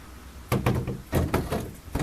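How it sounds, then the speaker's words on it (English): A wooden door being lifted and set onto its hinge makes several close, heavy knocks and thuds in bursts as it is worked into place while fixing a sticking door. "You set the door into the hinge."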